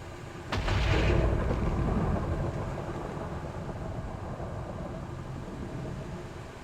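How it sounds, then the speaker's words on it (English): A thunderstorm in the video game Minecraft: a sharp crack of thunder followed by a loud, deep rolling rumble that slowly fades into a steady low wash of rain or wind, with no voices. "This is the thunderstorm."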